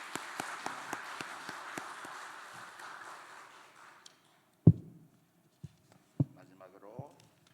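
An audience at a pastor ordination ceremony claps together in a steady rhythm that fades out after a few seconds, followed by a few scattered thumps and some quiet talk.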